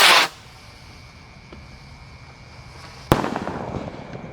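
A Gold Dragon rocket firework with blue effects goes off outdoors on the night before Eid takbiran: a short burst, a quiet gap, then a sharp, loud bang followed by a crackling, fading tail.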